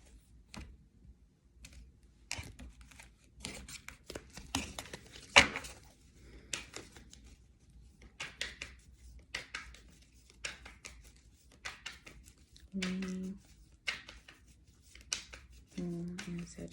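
Tarot cards being shuffled for a Moon in Sagittarius reading, heard as a string of quiet, dry card riffles and taps spread over the stretch, with short gaps between bursts and a low hum underneath.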